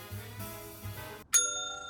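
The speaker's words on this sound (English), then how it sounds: "would you ring our jingle bell" A jingle bell is rung once, giving a bright, clear ding that rings on with a sustained shimmering tail after a moment of quiet.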